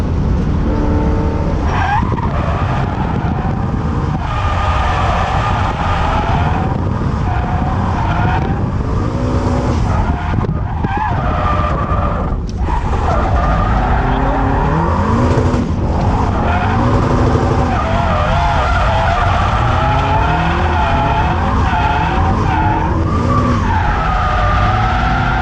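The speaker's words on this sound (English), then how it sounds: "So let's carry on doing more skids." A Toyota GT86 drifts at Teesside, tyres skidding and squealing continuously for the whole stretch over a loud, revving engine, close and sustained with no talking.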